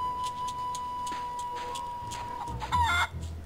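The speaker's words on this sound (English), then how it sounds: "Plunder Island Feral Chicken, one of Plunder Island's most common fauna" A feral chicken from Plunder Island in The Curse of Monkey Island gives a few quick, close clucks near the end, following a long steady tone and soft background sounds.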